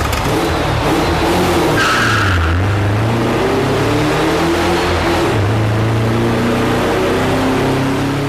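A loud car engine on a dyno with a makeshift silencer revs hard and climbs through gears, pitch sweeping up and dropping with each shift, steady and continuous throughout.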